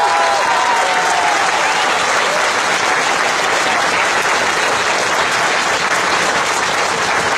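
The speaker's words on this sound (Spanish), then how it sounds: "Give yourself a round of applause." A large crowd at an event marking the opening of a DXN plant in Tlaxcala, Mexico, gives a loud, sustained round of applause, dense and unbroken throughout, with a faint tone heard briefly at the start.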